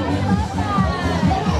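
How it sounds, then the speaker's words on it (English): A crowd gathers around reporters at a Fiesta event, a loud, lively babble of many overlapping voices with children's shouts rising now and then. "it looks like you've got quite a crowd gathered around you right now"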